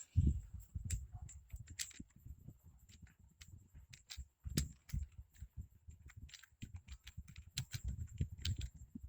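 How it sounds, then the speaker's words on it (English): Keystrokes on a computer keyboard while typing into a document in Microsoft Word, a steady run of close, sharp clicks with brief pauses and a few heavier taps. "simply click on the blank space and start typing"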